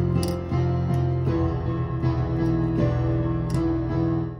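Piano plays the FNaF movie intro with both hands together, a low chordal bass under a repeating higher melody, steady and close with no talking.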